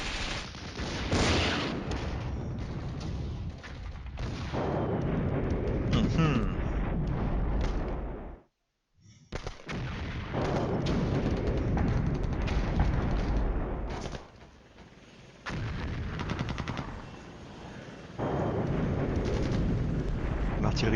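Artillery barrages in the Cold War wargame Flashpoint Campaigns, with dense rumbling booms and crackling impacts rolling almost continuously, broken by a brief silence and a couple of dips, with a voice talking over parts of it.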